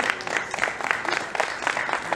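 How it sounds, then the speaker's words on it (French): Audience at a stock-market training session applauding for Marie-Laure, a steady dense wash of clapping at moderate volume lasting about two seconds. "Est-ce qu'on peut applaudir pour Marie-Laure, s'il vous plaît?"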